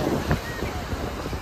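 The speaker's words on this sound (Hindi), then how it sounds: "हवा चल रही है यहाँ पे बहुत तेज और लहरें भी बहुत बड़ी बड़ी आ रही हैं।" Strong wind at the seashore in Rameshwaram buffets the microphone, blending with the steady rush of big sea waves in a dense, continuous roar throughout.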